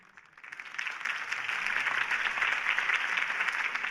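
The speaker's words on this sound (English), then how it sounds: "If only Mr. Wayne, my campaign's largest backer, could have heard that applause" Crowd applause after a campaign speech in the Batman: The Telltale Series video game, clapping that swells from quiet to a steady, dense roar and holds for several seconds, with no talking.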